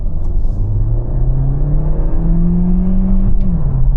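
A Hyundai Tucson's 1.6 TGDI engine revs up toward 6000 rpm, its loud, steady rising drone climbing through the gears and easing off at the end, heard from inside the car with no talking.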